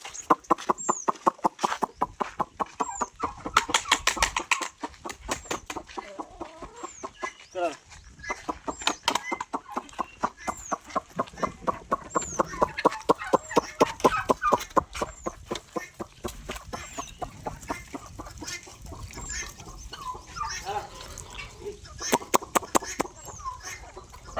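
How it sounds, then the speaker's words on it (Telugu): Country chickens (natu kodi) on a farm, called over for watermelon feed in summer, cluck and squawk densely and continuously, close by, with a busy flock chorus throughout. "నేను పిలుస్తాను కోళ్ళని."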